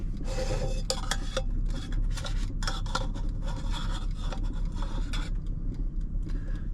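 A spatula rasps and scrapes against a pan while food is worked loose during minivan camp cooking of quesadillas, giving repeated close scraping strokes in uneven bursts.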